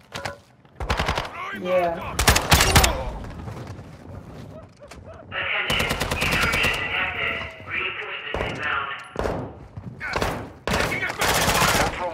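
Rapid bursts of automatic gunfire from a B21 video game crackle in loud clusters, with sustained volleys mid-clip and a final burst, while a player's voice briefly speaks between shots.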